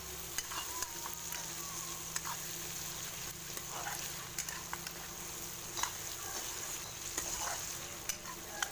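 Duck meat fries in oil in a covered pan on a home gas stove, a steady low sizzle with faint crackles and occasional light clicks, close and quiet with no talking.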